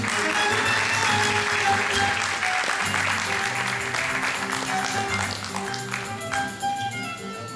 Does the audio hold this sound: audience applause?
yes